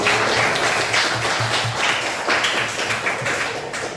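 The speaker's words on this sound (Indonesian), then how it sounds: "kasih tepuk tangan dulu dong buat kalian" Students in a university classroom clap for their classmates after a group presentation, a brief burst of scattered, overlapping hand claps close by, fairly loud and uneven, with some duller thumps mixed in.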